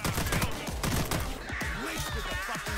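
Rapid bursts of gunfire from a burst rifle shotgun in a video game, loud and continuous across the clip, with brief voices mixed in among the shots.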